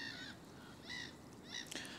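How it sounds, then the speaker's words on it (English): Distant gulls call over a beach estuary while flounder fishing at Chessel Bay, giving three drawn-out cries against a steady wind-like background hiss, with no talking. "The seagulls. God, there's a lot of birds in the distance there."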